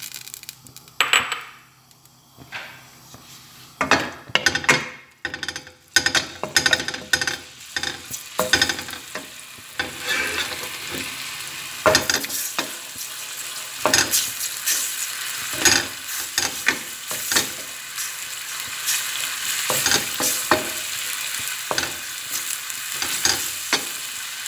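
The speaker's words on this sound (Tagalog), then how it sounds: "i-fry na natin ang ating ginger garlic" Ginger and garlic fry with onion in a pan. A continuous sizzle builds and thickens over time, broken by repeated sharp clatters of a utensil stirring and scraping against the pan.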